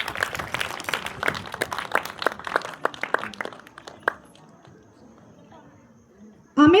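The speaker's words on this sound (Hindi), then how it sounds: "तो श्रीमती पुष्पा देवी जी का जरा जोरदार तालियों के साथ स्वागत करेंगे।" Applause at an award ceremony as the mother of an honoured student is welcomed: scattered, distinct claps from a modest crowd that thin out and stop after about four seconds, leaving quiet room tone before a voice begins.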